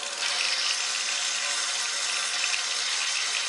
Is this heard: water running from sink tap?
yes